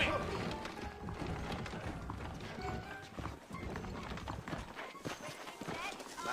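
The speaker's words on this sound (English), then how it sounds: "I got the horses saddled up and ready out front." Horse hooves clip-clop steadily in Red Dead Redemption on Xbox 360, saddled horses moving at a brisk pace, fairly loud beneath voices and ambient game sound.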